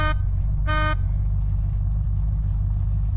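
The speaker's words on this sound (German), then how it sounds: "wenn mir jetzt ein Zombie in den Weg läuft, dann hupe ich einfach, ja? Es macht immer tut." In the zombie game Unturned, a car horn gives one short toot over the low steady rumble of the idling vehicle, loud and close, with no talking.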